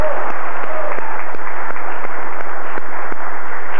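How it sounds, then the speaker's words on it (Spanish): A television studio audience claps for a band's musicians on a 1989 Mexican variety show, a loud, sustained burst of applause with a few sharper individual claps standing out in a loose rhythm. "Un aplauso a mis compañeros"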